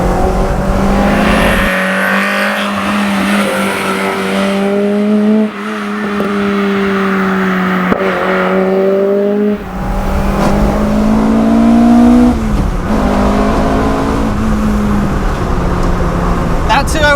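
A modified Peugeot 205 GTI engine revs hard through rising and falling pitches, a loud buzzing tone climbing between gear changes, heard from inside the car as people talk over it.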